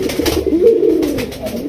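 Pigeons coo steadily and close by in a Bangladeshi pigeon-breeding loft, a low warbling call running through the whole short stretch with no talk over it.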